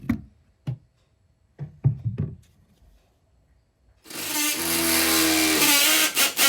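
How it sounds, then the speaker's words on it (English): A power drill bores down through garage-ceiling drywall from the attic, preceded by a few sharp knocks and taps, then running steadily and loudly for the last couple of seconds. "I'm up in the attic now, drilling down."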